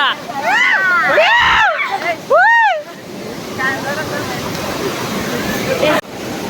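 Pallagutta waterfall in a village setting gives a steady broadband rush of falling water, partly masked by loud rising-and-falling tonal sounds during the first few seconds.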